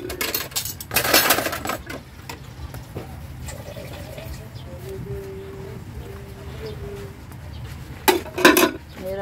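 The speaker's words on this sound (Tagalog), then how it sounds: "Pinakamahirap gawin yung magugas ng ganito." Dishes washed by hand while squatting low on the ground with no faucet nearby, giving clattering pot and utensil knocks and water splashes at close range, with louder bursts at the start and end and a voice speaking in between.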